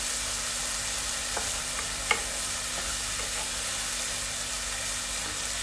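Hot oil frying in a pan before prawns go in, a steady high hiss with a faint low hum underneath and a couple of light scrapes and one small tap, close and even throughout.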